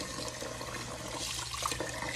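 Tap water runs steadily while something is being washed in a sink, a continuous close splashing and gushing flow with no talk.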